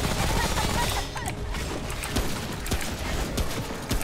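Gunfire in the video game Remnant: From the Ashes, a dense, continuous burst of rapid shots crackling over a busy game mix, steady and loud throughout.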